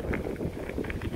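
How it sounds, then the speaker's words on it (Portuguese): Strong wind buffeting the microphone, a continuous low rumble with gusty fluctuations and no speech. "Ventando bastante agora."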